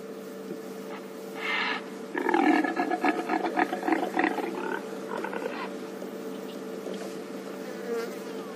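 Male impala vocalizing in the wild, a rough, rasping roar-like call in bursts over a steady buzzing insect drone, moderately close and fairly faint.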